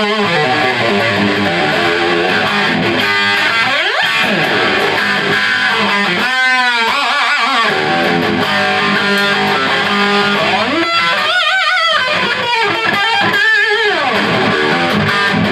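Electric guitar played straight into a Marshall amp with no reverb or delay, a dry, loud run of chords and picked notes with a focused low end, steady throughout with no talking.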